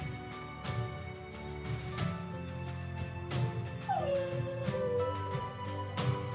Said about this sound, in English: If you hear a dog whining, please comfort that dog